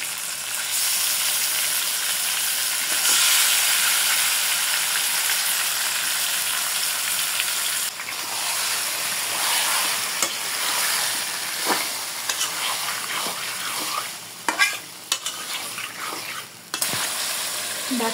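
Marinated country chicken goes into hot oil with fried onions, bay leaf and garam masala, giving a steady, close sizzle with bursts of stirring and scraping that grow busier toward the end.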